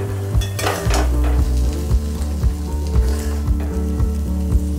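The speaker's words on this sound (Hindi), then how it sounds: "और इसे फिर से थोड़ा सा फ्राई कर लेंगे।" Spices fry in a pan for a cucumber raita tempering, a loud crackling sizzle with rhythmic metallic spoon taps and scrapes against the pan, close and without talk.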